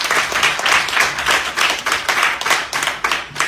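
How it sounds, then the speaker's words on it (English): An audience at a Jamaica workshop launch claps steadily for a group of entrepreneurs, a dense, even patter of many hands that stays loud throughout. "Give them a clap again."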